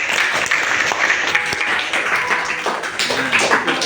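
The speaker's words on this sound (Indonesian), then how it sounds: "beri tepuk tangan kepada teman-teman kita." Audience applause at a school presentation, following a staged demonstration of a debate. Dense, steady clapping fills all four seconds at close range with no talking over it.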